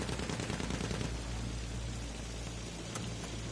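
Rapid, continuous video-game gunfire, a steady rattling barrage of fast shots with a hiss like heavy rain, loud and sustained throughout, with no talking.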